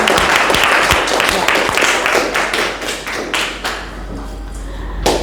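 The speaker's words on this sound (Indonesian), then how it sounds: "Jadi silahkan tepuk tangan buat kita semua ya." A classroom group claps after a practical session, a dense burst of applause that thins out into scattered claps and one final loud clap, close by.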